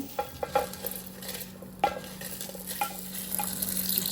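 Cumin, coriander and onion fry in a pan while being stirred, with sharp spoon clinks and clatters against the metal over a low, steady sizzle.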